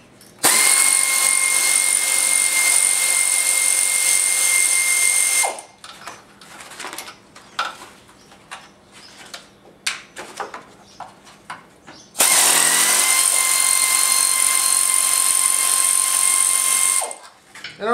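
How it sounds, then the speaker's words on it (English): A powered 3/8 socket driver spins out machine-thread bolts from a Sta-Rite heater, making two loud, steady high-pitched whirring runs separated by quieter clicks and handling noise. "Next is our 3/8 socket. We want to take, pull off these bolts."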